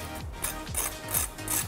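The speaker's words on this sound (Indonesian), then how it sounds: "Dengar kan, ini kriuk dan garing." Crisp, crackly crunches of fried eggplant repeat about four times at a steady pace, close up, each a brief burst of crackling texture with no talking.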